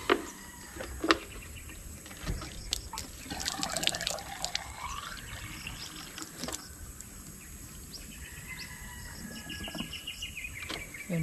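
Water trickles and splashes into a container being filled from a homemade deep well in Mindanao, a steady close pour with faint drips and birds in the background.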